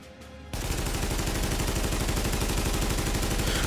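A High End AK-47 emptied in one unbroken full-auto stream in the video game The Division: after a brief quiet moment, loud, dense, rapid shots continue without a break.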